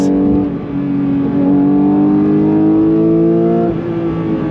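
A 2022 Porsche 911 GT3 flat-six engine with individual throttle bodies revs high and close, its pitch sliding slowly down and then back up in a steady, throaty whine.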